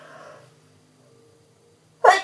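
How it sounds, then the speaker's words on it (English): A single sharp, loud sneeze bursts out near the end after a moment of near silence, preceded by a faint breathy intake. "Can't stop myself sneezing."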